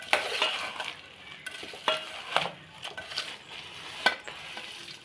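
Motichoor laddu mixture stirred in a pan as ghee goes in, giving soft scraping and sizzling with irregular spoon knocks against the metal, close and fairly quiet, no voices.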